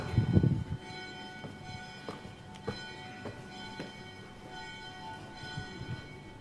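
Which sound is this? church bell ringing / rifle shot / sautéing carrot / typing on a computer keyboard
church bell ringing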